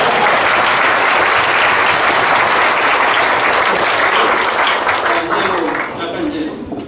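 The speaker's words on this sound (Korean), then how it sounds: "이거는 일단 한 번은 박수 한번 치겠다." An audience at a university retirement lecture breaks into sustained, loud applause, a dense wash of clapping from many hands that gradually thins and fades toward the end.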